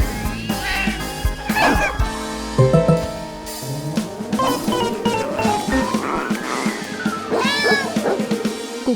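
A cartoon dog and cat squabble over a piece of meat, with exaggerated meows and yowls, a few barks, and sliding comic sound effects over a busy music bed.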